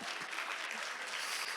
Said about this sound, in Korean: 다시 한 번 박수 주세요.